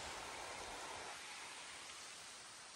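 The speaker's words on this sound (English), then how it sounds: "Waterfall down the way here." Steady broadband rush of a waterfall beside a mountain hiking trail, heard as continuous white-noise-like water at moderate distance, faint and unbroken with no voices.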